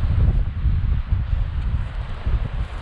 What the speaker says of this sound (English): I can't hear you because of the wind.